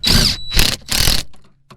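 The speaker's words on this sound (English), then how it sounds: "Sorry, the drill's probably really loud. It's right by the mic." A power drill runs right beside the microphone while tightening 10 mm bolts on a steering column, with three loud bursts of whirring separated by brief pauses, then a faint click.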